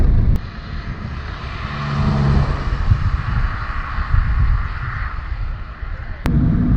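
Cabin of an Audi A2 with an aftermarket exhaust cruising at about 60, a low-drag car: a steady, moderate road and engine rumble holds throughout with mild wind noise and a couple of faint clicks.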